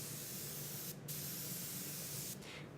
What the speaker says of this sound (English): The spraying will be done with a dedicated spray gun.